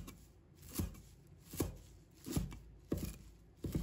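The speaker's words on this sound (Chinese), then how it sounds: "再准备一把香菜，把它切成小段" A knife chops a bunch of coriander into short pieces on a cutting board, five evenly spaced soft thuds recorded close and quiet.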